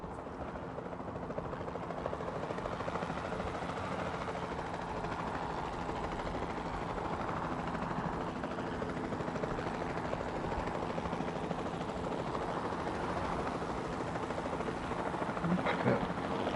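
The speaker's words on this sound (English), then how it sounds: "Then the sensible thing is to take a capture team helicopter." The capture team helicopter in Jurassic World Evolution 2 keeps up a steady rotor and engine drone throughout at an even, moderate level.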